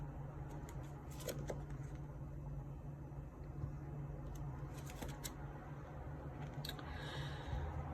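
Soft shuffling and sliding of cards with light taps as they are laid down, over a steady low hum, no talking.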